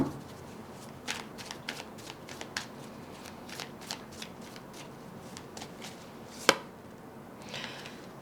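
A tarot deck shuffled by hand, a string of crisp riffling and card-slapping bursts spaced irregularly across eight seconds, close and clear, with one sharper snap near the end and no speech.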